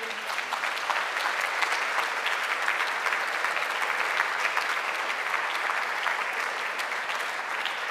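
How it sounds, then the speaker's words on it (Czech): Sustained applause from the audience at a Czech national architecture award ceremony, filling the hall steadily at even loudness as a lifetime achievement award is presented. "Nechtěla jsem do vašeho potlesku vstupovat"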